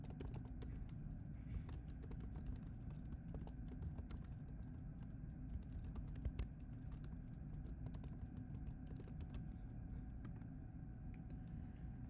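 Someone types on a computer keyboard while entering user details into a planner app, producing a steady stream of quick, light key clicks over a low background hum, close and fairly faint, with no talking.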